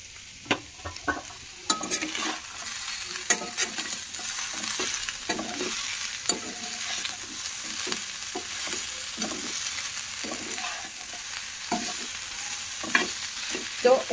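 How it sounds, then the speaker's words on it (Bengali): Vegetables frying in a pan with salt and turmeric, a continuous close sizzle broken by repeated scraping and clinking of a spoon stirring, with no talking. "সবজিগুলো দিয়ে দিলাম, এবার নুন আর হলুদ দিয়ে নুন দিলাম"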